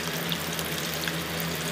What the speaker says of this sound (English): yep, just frying it up.